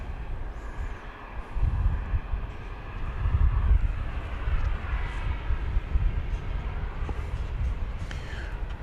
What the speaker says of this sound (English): here's a flight from Orlando, MCO. It's a MAX 8, flight 3025